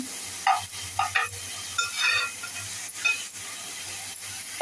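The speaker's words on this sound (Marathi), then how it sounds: "छान गुलाबीपर्यंत परतून घेतलं गुलाबी होईपर्यंत" Food is sautéed in a pan until pinkish while cooking a rassa curry, with a continuous soft sizzle and hiss broken by repeated stirring and scraping strokes close up, and no talk.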